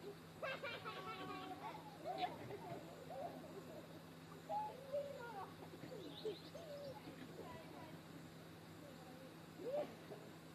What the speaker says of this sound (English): There's a bird right at my feet.